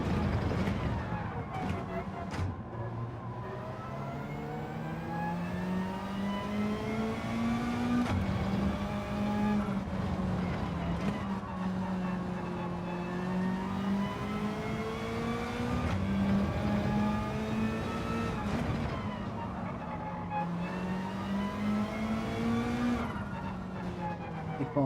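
A Gr.4 race car in Gran Turismo 7 drones steadily through long rising and falling engine notes as it shifts and accelerates, the car sliding around a little, with a player talking over it throughout.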